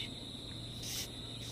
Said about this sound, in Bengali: চারিদিকে ঝিঝি ডাকছে